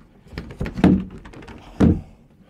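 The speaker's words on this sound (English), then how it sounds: "Like these slidey doors is wonderful." Sliding doors inside a Rapido 886F A-class motorhome give two distinct soft thunks about a second apart, each with a brief rattling slide before it, close and clear with no talking.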